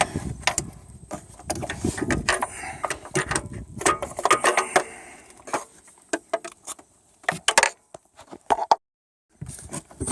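A ratchet with a 19mm deep socket works on the temperature sending unit of a 2004 Saturn Ion 2.2 Ecotec, giving bursts of sharp clicking and metallic clattering, close up, separated by brief pauses.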